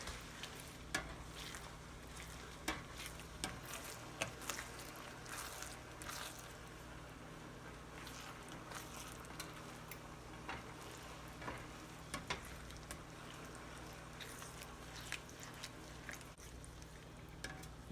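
Thick shrimp étouffée sauce bubbles and sizzles softly in a pan as it thickens while a utensil stirs and scrapes now and then, steady and close.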